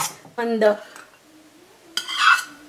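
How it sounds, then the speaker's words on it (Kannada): Sugar is stirred into rava kesari bath in a pan: a spoon scrapes and clinks against the metal in two short bursts, close and fairly loud, with a quiet lull between them. "ಈ ಥರ ಚೆನ್ನಾಗಿ ಸಕ್ಕರೆ ಹಾಕಿದ್ಮೇಲೆ ಚೆನ್ನಾಗಿ ಮಿಕ್ಸ್ ಮಾಡಿ"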